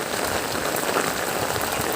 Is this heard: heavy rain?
yes